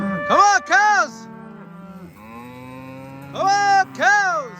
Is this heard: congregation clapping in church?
no